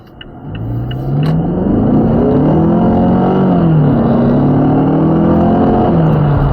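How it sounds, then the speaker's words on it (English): A 2023 Mazda 6 20th Anniversary turbocharged engine revs up hard and accelerates, its rising drone climbing in pitch, dropping at a gear change, then climbing again, loud and close. "we'll just try acceleration on the Mazda 6 and see how the turbocharged engine performs"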